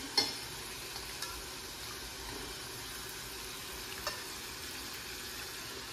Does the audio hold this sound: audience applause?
no